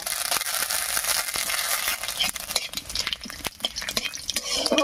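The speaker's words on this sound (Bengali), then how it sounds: "তেল গরম হয়ে গেছে, এবারে গোটা জিরা আর তেজপাতা দিয়ে ফোড়ন দেবো।" Whole cumin seeds and bay leaves sizzle steadily in hot mustard oil in a kadai, a dense close crackle with scattered spitting pops and a few stirring scrapes, no voices.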